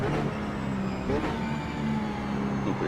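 A Ruf GT3 race car's engine in iRacing, lapping Phillip Island, drones steadily and loudly up close, with a brief dip and rise around a gear change before the tone carries on.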